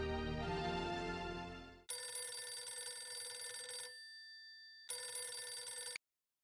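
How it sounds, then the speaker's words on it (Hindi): A phone rings in two electronic bursts separated by a short pause, clear and close, following a stretch of music that cuts off abruptly. "मैं एक मिनट सोडी को फिर से फोन लगाता हूँ।"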